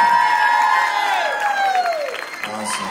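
Crowd cheers and applauds at a live band show in Ville Platte, a steady dense wash of clapping and whoops under a held, sliding musical tone, without clear speech over it.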